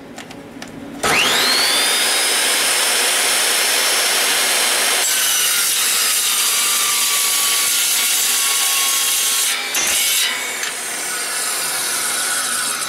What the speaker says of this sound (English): Nice cut saw here.